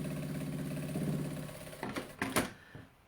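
A sewing machine stitches straight across fabric held with tape, its steady mechanical hum running close and clear, then breaking into a few short bursts and clicks as the stitching stops and starts.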